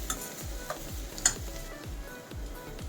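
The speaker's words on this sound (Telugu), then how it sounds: "ఇప్పుడు ఉల్లిపాయలు బాగా వేగిపోయినాయి కదండి. ఇప్పుడు అల్లం వెల్లుల్లి పేస్ట్ వేసుకుందాం." Ginger garlic paste fries with browned onions in a pan for veg pulao, a moderate sizzle broken by regular scraping strokes of a spoon stirring, with no talking.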